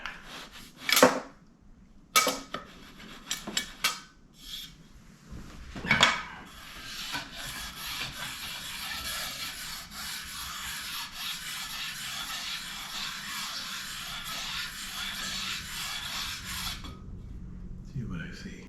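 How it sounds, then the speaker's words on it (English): Sandpaper rubbed over a vintage Fender bass guitar, a steady close scratchy rasp lasting about ten seconds after a few short scrapes and knocks at the start. "run some sandpaper over it."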